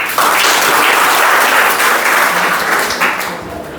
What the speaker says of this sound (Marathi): अरे टाळ्यांचा आवाज होता रे.